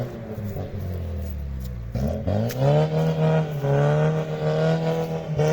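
A 2.0 Opel Frontera revs through its exhaust, a low engine note that climbs and then holds a loud, throaty rumble after a brief dip.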